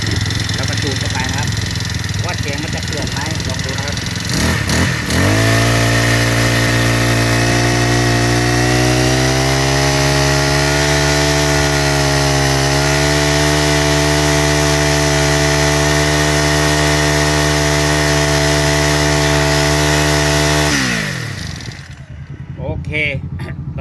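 A small four-stroke engine runs loudly at a steady idle during tuning for most of the clip, its pitch creeping up slightly before cutting off near the end.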